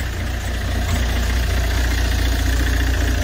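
A Peugeot 807 2-litre car engine idles steadily while warming up, a low continuous rumble with a slight knocking pulse, close and fairly loud with no voices.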